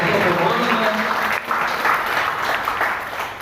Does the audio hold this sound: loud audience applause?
yes